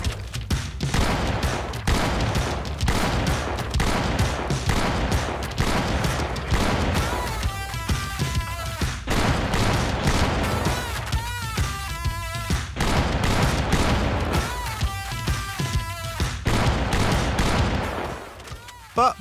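Video game gunfire in Project Zomboid as a survivor shoots through zombies outside a prison, dense rapid bursts and repeated loud shots that keep up almost without pause, with ringing tones and game sounds mixed in.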